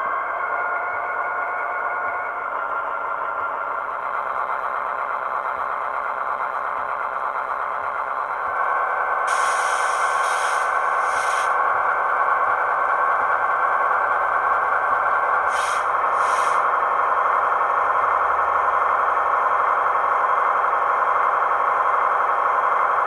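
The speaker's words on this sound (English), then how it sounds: "You can also manually notch the engine with F9." A Kato SD80MAC HO scale model locomotive with a LokSound decoder hums in a steady synthesized diesel drone that thickens as the engine notches up, with brief high chirps cutting in twice.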